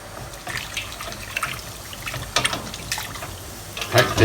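Running cold tap water rinsing flour off freshly made noodles, a steady trickling and splashing stream that rises and falls with bursts of spatter as the noodles are moved, close by with no talk.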